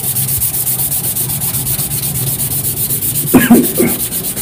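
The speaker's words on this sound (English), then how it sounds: "start off with some 320 grit wet dry sandpaper" Steady rhythmic back-and-forth wet sanding of a saw blade knife with 320 grit wet/dry sandpaper, close and continuous, with a brief clunk near the end.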